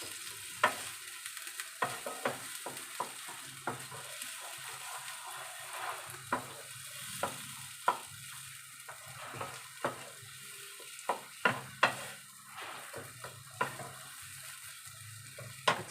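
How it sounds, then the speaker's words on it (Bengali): Peas kachori stuffing frying in a pan, with a steady close sizzle broken by repeated scraping and stirring strokes of a spatula. "ভালো করে ফ্রাই করবো।"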